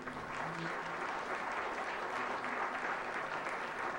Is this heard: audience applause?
yes